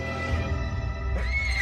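A bicorn, a two-horned horse-like beast in an anime, lets out a single loud, close neigh that rises into a shrill whinny at the end.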